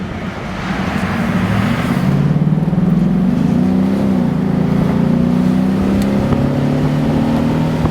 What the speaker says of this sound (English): Nice V8 growl out of that thing.